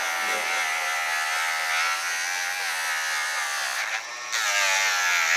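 A Dremel rotary tool grinding a dog's nails gives a steady, close, high-pitched buzz that runs almost the whole time, dipping briefly near the end before resuming.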